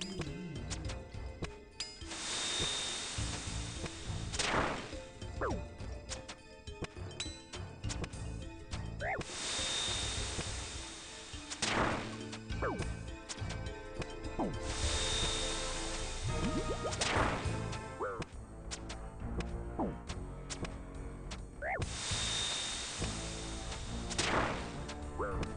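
A ranger enemy shooting fire in the game Old School RuneScape: repeated whooshing, whip-like fire blasts about every five seconds, loud and close over steady game music.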